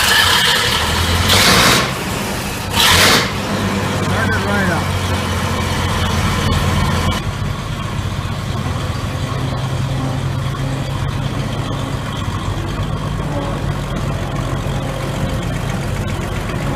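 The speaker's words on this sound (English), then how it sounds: "Here's the big G6 Moline propane. I hope it starts up." A Minneapolis Moline G6 propane tractor engine cranks in two loud bursts, then catches and settles into a steady, heavy low idle that runs on continuously, close and alone, on a cool day in Illinois.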